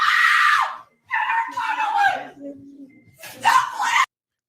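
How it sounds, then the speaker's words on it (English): A woman screams inside a Victoria's Secret store in loud, shrill, drawn-out bursts that break off and start again, with a brief low murmur in between. "Listen how this woman is screaming."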